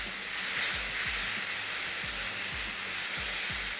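Tomatoes frying in masala for dal makhni, a steady loud sizzling hiss close by with a low rhythmic thumping underneath, no talk.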